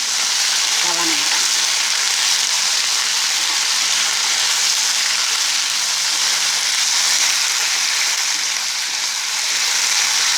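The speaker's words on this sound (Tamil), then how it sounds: "எண்ணெய் பொரிக்கும் பார்த்து கவனம்." Steady, dense sizzling of eggplant frying in hot oil, loud and close, crackling continuously throughout without pause.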